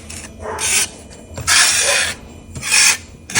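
Rough rasping strokes of rubbing excess powder coat paint off an engraved surface, three longer passes with short pauses between, close and fairly loud.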